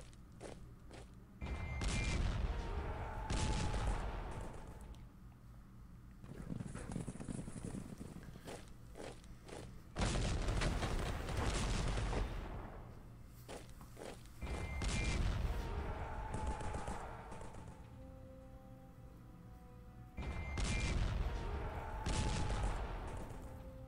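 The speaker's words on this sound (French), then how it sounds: "c'est la défensive artillerie de qualité que nous avons" Artillery fire in a battle set at the end of Austria-Hungary, heard as five heavy, loud salvos spaced a few seconds apart, each rumbling and fading before the next.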